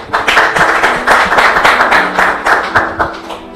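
A church congregation applauds, steady rhythmic clapping from many hands that is loud and close and keeps a fairly even pulse throughout.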